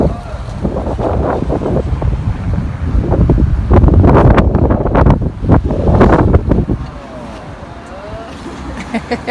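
Strong gusting wind buffeting the microphone in loud, uneven bursts and low roars, with people talking intermittently beneath it.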